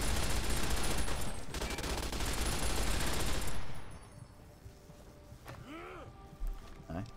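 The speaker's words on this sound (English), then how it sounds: "Light machine gun." Rapid, loud automatic bursts from a light machine gun in Fallout: New Vegas fill the first three and a half seconds, then cut off, leaving faint game ambience and a brief groaning cry.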